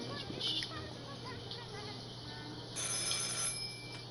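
A telephone rings inside a PS4 video game, a repeated electronic trill over a steady background hum, its tone shifting brighter partway through.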